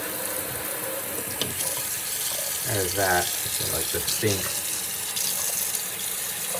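Steady broadband hiss of water spraying shower-like onto an Oraolo M91 waterproof Bluetooth speaker, continuous and close, with someone briefly talking over it midway.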